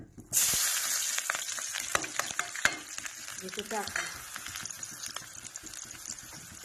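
Green chilli, garlic and ginger dropped into hot mustard oil for an Indian brinjal dish, a sudden bright sizzle that flares up then settles into crackling, with quick spoon clicks and stirring, close and unaccompanied by speech.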